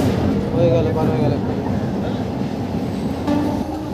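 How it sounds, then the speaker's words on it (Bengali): A Howrah–Amta local train passing Bankra Nayabaz station rumbles steadily, heard from on board, with a dense low roar of wheels and carriages and faint rattling throughout. "আমাদের ট্রেন এখন পার করছে বাঁকড়া নয়াবাজ স্টেশন"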